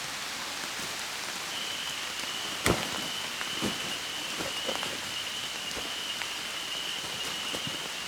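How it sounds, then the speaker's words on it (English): Heavy rain drums steadily on a forest trail and tarp, a dense continuous patter with scattered louder drops close by and one sharp knock near the start; no talking. "Oh boy, rain's coming in hard."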